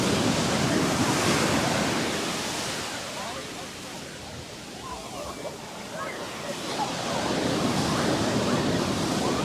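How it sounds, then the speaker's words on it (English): Surf at Coogee Beach in Sydney, a continuous broad roar of breaking waves that swells, eases slightly in the middle and builds again, with faint voices mixed into the wash. "Real family beach, Coogee."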